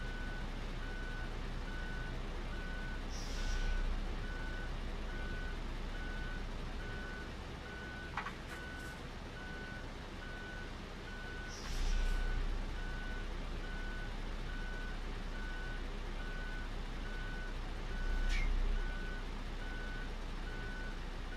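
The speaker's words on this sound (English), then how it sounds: "I think I just straight up forgot how to back up trailers" Reversing beeps from a truck backing up a trailer in Euro Truck Simulator 2: steady, evenly spaced electronic beeps over a constant low engine hum, with occasional brief hisses and clunks.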